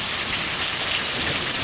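Hail and rain pour off a roof in a cold July storm, a dense, loud, continuous hiss and patter close by with no gaps.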